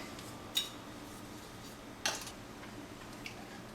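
Metal screw bands being fitted onto glass canning jars of blueberry syrup, heard as two sharp clinks a second and a half apart and a faint later tick, in an otherwise quiet kitchen.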